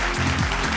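A short stretch of crowd clapping at a health awards gala in Bangalore, brief and dense, blended with a prominent backing music bed.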